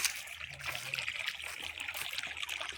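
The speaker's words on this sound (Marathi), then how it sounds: "इड इकडं पाणी निघतंय आता आपण आलोय पाणी भरण्यासाठी" Faint, steady trickle of water flowing out at a farm field, with soft splashy texture and low background hum, no one speaking.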